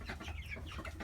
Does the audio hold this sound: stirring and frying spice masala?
no